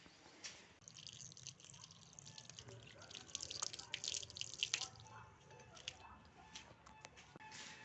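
Water runs and drips from a tap as hands and feet are washed upstairs in a house, a steady soft splashing with scattered drips and occasional louder spatters.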